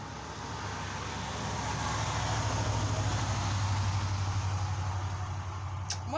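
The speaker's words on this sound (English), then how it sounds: "why does every car that has to pass by have to be on a loud, bumpy freaking highway with no muffler?" A loud car without a muffler rumbles along a bumpy highway, a steady droning roar that swells as it passes, heard from nearby with no talk.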